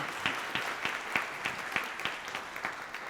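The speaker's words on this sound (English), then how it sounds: "Please give a round of applause for Max Vidovic." Audience applause at a community reading and concert program, a steady patter of many hands with regular sharp claps standing out, moderately loud and unbroken for a few seconds.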